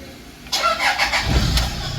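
A Toyota Fortuner with a low-power fault and a newly replaced camshaft sensor cranks and catches, its engine starting with a brief whir that settles into a close, steady idle.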